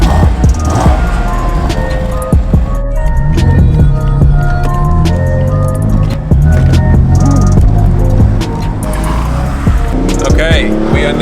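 A BMW M4's engine rumbles loud and close, idling with a deep, steady tone and occasional revving swells, while people talk over it throughout.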